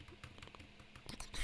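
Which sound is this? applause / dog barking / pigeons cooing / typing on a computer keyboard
typing on a computer keyboard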